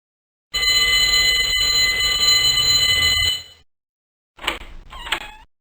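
A fire alarm bell in the 1993 PC game T.J. Finds A Friend rings loudly and steadily for about three seconds, then stops. Two shorter, clattering bursts follow after a brief silence.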